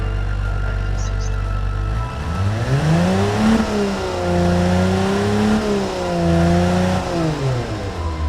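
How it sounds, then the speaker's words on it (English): A 1960 inline six-cylinder pushrod engine starts out idling low and steady, then rises and falls through gentle revs with a smooth, droning hum, loud and close. "the engine is under stress because it always runs on low RPM"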